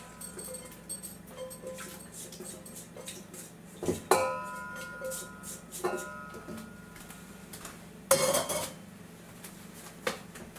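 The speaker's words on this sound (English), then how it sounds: "I'm going to mix the wet ingredients into the dry." Wet ingredients mixed into dry for skillet cornbread batter: quiet scraping and stirring, broken by a few sharp clinks of a utensil against the bowl, near and in short bursts.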